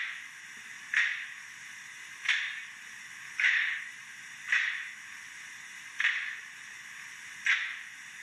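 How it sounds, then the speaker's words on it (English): Six sharp door slams from a sound-fitted Accurascale J68 model locomotive, evenly spaced about a second and a half apart, each a crisp bang with a short decay, heard alone. "The door slamming."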